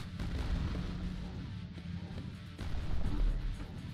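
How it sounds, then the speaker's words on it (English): Contact grenades exploding in the video game Quake II: The Reckoning, heard as a dense, continuous low rumble of blasts that swells louder in the final second and a half. "Whoever invented the idea of grenades that explode on contact, thank you."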